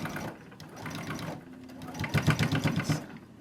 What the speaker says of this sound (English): So, let me backstitch.